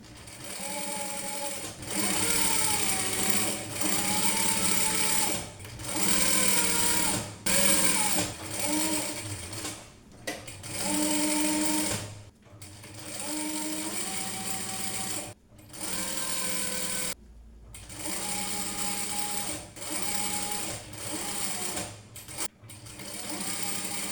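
A sewing machine stitches piping onto a patchwork bag made from scrap fabric. It runs in loud, steady bursts of several seconds, broken by short pauses, with no talking.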